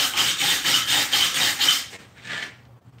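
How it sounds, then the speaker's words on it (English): Abrasive sanding of a forged Damascus steel blade, a steady rhythmic rasping with repeated strokes for about two seconds, then a pause and one shorter final pass. "I'm going to give it a good sanding to try and smooth it up a bit."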